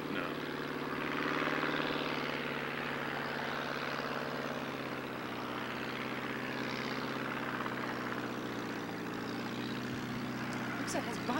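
A replica 1915 Fokker Eindecker monoplane drones steadily overhead at Wycombe Air Park, its propeller engine holding a low, even hum at moderate distance while people talk nearby.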